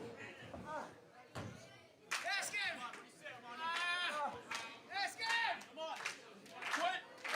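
At a live Chaotic Wrestling show in Tewksbury, the crowd claps and cheers to rally a wrestler, with bursts of sharp applause and shouts rising and falling over several seconds amid loud chatter and calls.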